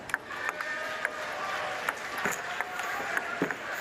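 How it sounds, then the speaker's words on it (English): Scattered applause and clapping from a small crowd at a para table tennis match, a steady patter of hands with a few sharper individual claps standing out, no talking over it. "Andrew Rushton applauds from the corner."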